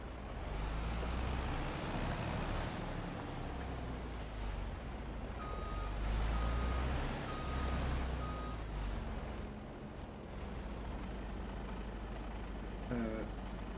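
In a farming video game, a truck idles with a steady, loud diesel drone, a hiss of air brake and a run of rapid reversing beeps near the end, with no talk over it.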